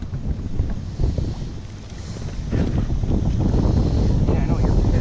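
Strong wind buffets a sailing boat on open water, roaring and gusting against the microphone with a low rumble that builds toward the end, while people talk over it.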